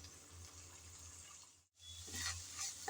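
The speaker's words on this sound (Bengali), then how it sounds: "চিংড়িগুলো দিয়ে নেড়ে চেড়ে হালকা করে ভেজে নেব।" Shrimp fry in oil in a pan with a faint, steady sizzle, briefly breaking off before the hissing and crackling return slightly louder.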